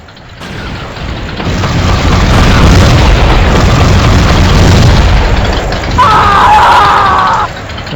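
Heavy bombardment explosions roar from a vehicular combat game, Twisted Metal 4 Remastered, as a sustained rumbling barrage of booms and bursts, loud and dense, with a sharper metallic flare of impact near the end.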